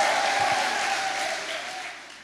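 An audience at a live religious gathering claps loudly. The dense applause starts at full strength and slowly fades away.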